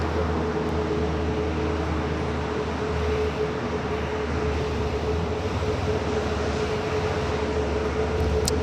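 An airliner roars through its takeoff roll on runway 25 right at LAX, a steady broadband engine rumble with a thin tonal whine that holds loud and unbroken throughout.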